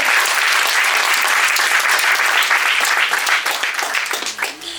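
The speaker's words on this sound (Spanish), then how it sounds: "Alguien tiene un aplauso al Espíritu Santo" A church congregation breaks into loud, sustained applause that fills the room, then tapers off near the end.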